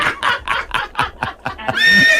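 A horse whinnies loudly and close up, a rapid run of quivering, pulsed neighs that ends in a higher drawn-out squeal.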